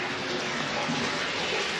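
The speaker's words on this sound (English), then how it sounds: "Okay, thermal water's coming up through that." Thermal spring water at Leukerbad flows in a steady, even rush, a constant watery hiss like a filling bath, heard close and unbroken, with no talk over it.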